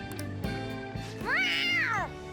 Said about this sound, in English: I thought I heard a talking cat.